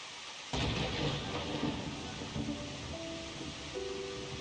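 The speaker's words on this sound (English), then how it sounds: "The second a strikingly loud thunderclap hit, the lightning in the room abruptly went out." A loud thunderclap in a video game cracks in abruptly and then rolls into a sustained rumble with rain-like hiss beneath, dominating the scene while faint tonal game sounds appear near the end.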